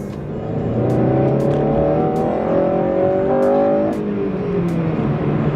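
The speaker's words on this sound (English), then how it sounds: "Just getting a little taste of that VTEC." An 8th-generation Honda Civic Si engine revs up into VTEC, a loud, close, sustained rising wail with smooth harmonic climb over about four seconds before easing off.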